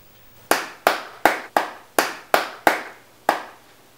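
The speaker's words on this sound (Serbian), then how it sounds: "Aplauz." Eight crisp, close hand claps ring out at a slow, slightly uneven pace, each one sharp and separate with a short decay and no talking.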